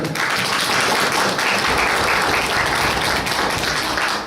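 A church congregation applauding in thanks, a dense, loud and even wash of clapping that holds steady throughout with no talk over it.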